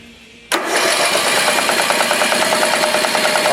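A small engine of an LT1000 lawn tractor with a broken balancer cranks and catches, then runs loudly with a rough, steady rhythmic chug and knock close by.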